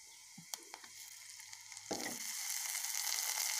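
Chopped onion, green chilies and ginger-garlic paste in a pan: a few utensil clicks give way to a loud, swelling sizzle that continues steadily up close.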